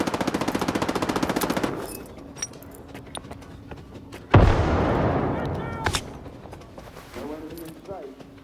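Gunfire in the video game Stalker 2: a rapid automatic burst rattles loudly, then a heavy blast booms and fades, with scattered single shots and game voices calling out between them.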